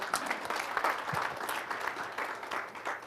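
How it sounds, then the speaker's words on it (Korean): An audience at a Korean university lecture gives warm applause to welcome a guest professor, dense and continuous clapping from a crowded hall with no talking. "여러분 뜨거운 박수로 환영해 주시기 바랍니다"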